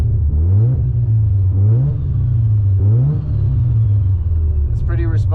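A tuned Mazda RX-7 FC rotary engine is blipped through four quick rising revs close up, each climbing and dropping back to a rumbling idle, with a brief voice near the end.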